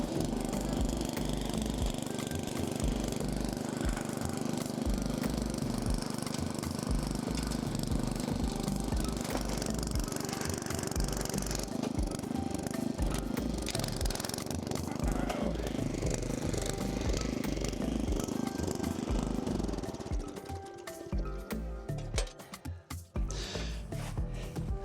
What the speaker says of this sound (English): let's give them a pass and see how the tiller works